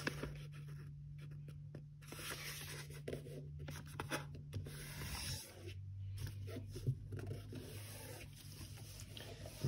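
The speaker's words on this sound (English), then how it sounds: "So first we're going to be folding along the diagonal." Sheets of 80 GSM origami paper are folded along the diagonal and creased, with soft scraping, rubbing strokes and papery rustles over a steady low hum, close and quiet with no speech.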